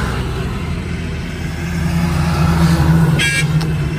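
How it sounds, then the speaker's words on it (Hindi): Trucks rumble past on a road in Srinagar, a loud, continuous low engine roar that swells as they pass, with a brief high horn-like tone near the end. "आवाज सुनो ट्रक्स की"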